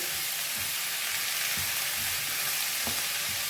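Chicken pieces fry in a pan for a chicken curry, giving a steady loud sizzle with occasional stirring scrapes.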